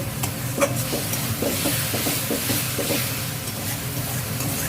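Potatoes stirred and fried in a wok (kadai), giving a steady close sizzle with soft scraping strokes throughout and no talk.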